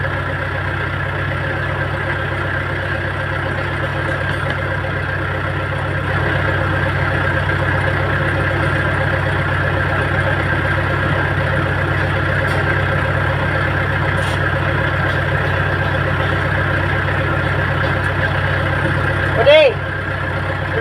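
A loader's diesel engine idles steadily at a construction site in Liloy, Zamboanga del Norte, a constant low droning hum with people talking over it and a brief clank near the end.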